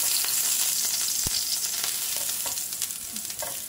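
Aubergines fry in oil in a pan with a steady, close hiss and crackle, occasional sharper pops, and a slight fade toward the end, with no voices.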